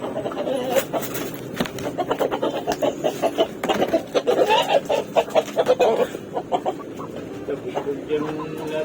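Chickens cluck and squawk close by in a farmyard, with busy, irregular bursts of calls mixed with people talking in the background.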